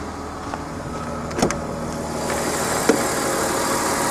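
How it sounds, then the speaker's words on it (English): A neglected, cheap old BMW car engine with its muffler bypassed idles smoothly and steadily up close under the open hood, with a couple of brief clicks and a faint knock partway through. "despite this thing being neglected and unloved, the engine runs super damn smooth"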